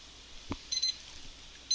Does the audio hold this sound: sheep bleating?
no